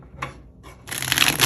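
Tarot cards being shuffled, two short riffling bursts followed by a longer, louder continuous flutter of cards, close and clear with no talk.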